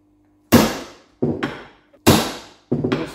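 A socket is tapped with a hammer to drive king pin bushes loose on a vehicle axle, giving four sharp metallic knocks at irregular intervals, each ringing out briefly, close and loud with no talking.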